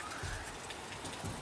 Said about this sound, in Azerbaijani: İyun ayındakı yağışa bax.